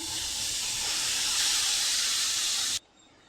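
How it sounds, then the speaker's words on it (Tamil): Minced mutton added to a hot pan sizzles with a loud, steady, close hiss for under three seconds, then cuts off abruptly into near silence. "இப்போது இந்த மட்டனை ஒரு பேனில் சேர்த்துக்கலாம்"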